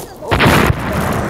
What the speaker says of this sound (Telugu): బాంబుల మీద బాంబులు వేస్తానే ఉన్నాడు